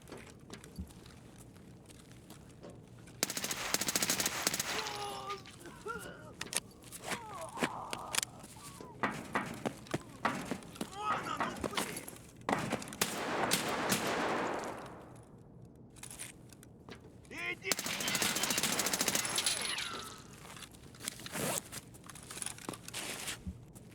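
Gunfire in the video game Escape from Tarkov rattles out in several loud bursts of rapid shots and single cracks, separated by quieter stretches of movement and rustling.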